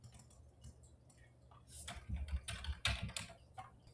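Keystrokes on a computer keyboard while entering data into a spreadsheet: quiet, irregular clusters of close clicks, denser in the middle, with no talking.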